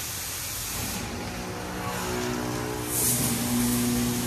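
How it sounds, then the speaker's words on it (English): A steady high-pressure rinse sprays across a car inside a PDQ Tandem Surfline automatic car wash, a continuous hiss with a low machine hum that swells slightly louder toward the end. "here goes our high pressure rinse"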